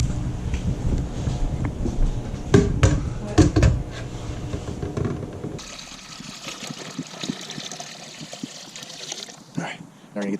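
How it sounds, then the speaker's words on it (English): A second gallon of water poured into a big pot on an outdoor burner, a steady close splashing pour that follows louder handling knocks and rumble, with no talking. "That was our first gallon, so we need to add a 2nd gallon of water."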